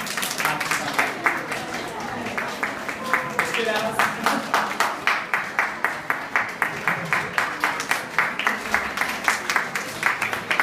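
An audience at a book presentation for the children's book Moji zeleninkoví kamaráti, held at the Mama trh market, claps in a steady rhythmic beat for about ten seconds, loud and close, with faint voices underneath.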